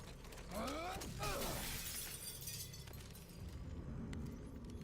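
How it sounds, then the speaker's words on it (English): Glass breaking in a video game, a bright shattering crash with scattering shards early on, followed by lingering clatter and mechanical noise in a steady background. "I don't know why I didn't break glass before"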